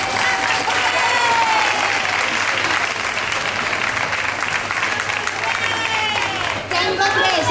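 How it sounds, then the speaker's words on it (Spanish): A concert audience at a show claps loudly and densely in a continuous roar, with cheers and crowd babble mixed throughout for the full stretch. "Venga, chicas, un aplauso"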